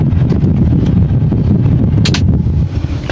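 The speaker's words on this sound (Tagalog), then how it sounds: "Patayin natin yung aircon para medyo tahimik" A car air conditioner runs inside a Toyota Wigo, giving a steady, close, breathy whoosh of blowing air with a faint flutter and no voices over it.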